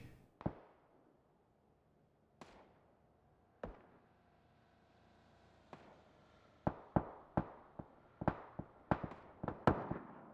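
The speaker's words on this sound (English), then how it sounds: "More shots going out" Gunfire in PUBG during a console league finals match: sharp cracks at varying distances, a few isolated shots early, then a rapid, irregular cluster of near and far reports, with no talking.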